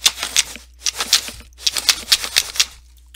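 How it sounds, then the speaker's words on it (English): Someone rummages through a drawer, making three quick bursts of rattling, shuffling clatter with short pauses between them. Each burst is close and fairly loud, and no one speaks. "Let me dig in my drawer."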